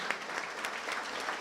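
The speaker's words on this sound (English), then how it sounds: "So how about a round of applause?" Steady applause from an audience at a cardiac arrest survivors' celebration. It is a soft, even patter of many hands that lasts a short while with no clear peaks.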